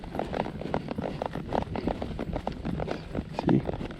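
A palomino mare ridden in a spade bit clip-clops along a trail, her hoofbeats close, steady and rhythmic with light background noise.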